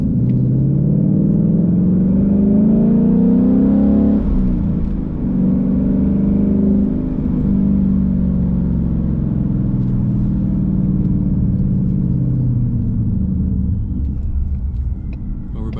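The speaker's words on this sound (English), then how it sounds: "I want to do a little more like slightly aggressive driving around here first before I decide to go to a gas station" A ProCharger-supercharged Ford Mustang engine rumbles steadily throughout, rising and falling in pitch through a few throttle surges during aggressive driving, loud and close with no talking.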